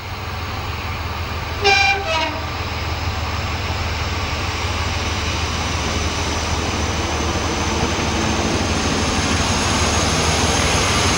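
Class 45 Peak diesel locomotive 45112 on the Severn Valley Railway, a steady loud engine drone throughout with a brief two-tone horn blast near the start.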